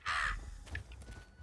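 A crow in the game ESO gives a loud, harsh caw up close, followed by softer, scratchier calls trailing off.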